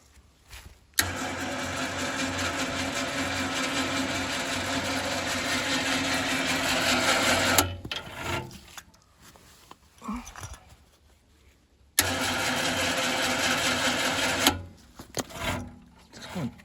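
A Runva 3.5 winch motor mounted on the front bumper of a Polaris Ranger 400 runs in two steady whining bursts, a long one of about seven seconds and a shorter one later, with quiet gaps of clicks and handling noise between.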